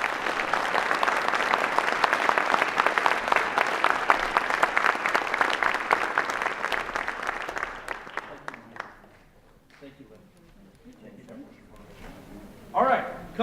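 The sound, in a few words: audience applause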